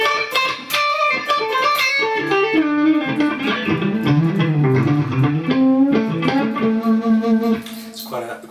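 A PRS Custom 24 electric guitar on its neck pickup plays a melodic phrase through a clean amp with a compressor and reverb. The tone is thick and flute-like, with picked notes ringing into each other, close and fairly loud.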